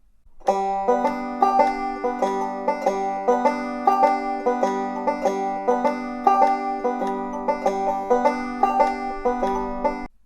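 A mandolin playing a repeated melodic pattern with too much bounce, each triplet's middle note delayed into a lilting, uneven rhythm, clear and close, no voices.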